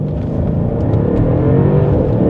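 Exhaust of a 2016 Mercedes S63 AMG rumbles deep and loud up close as the car accelerates, a continuous throaty drone with no voices over it.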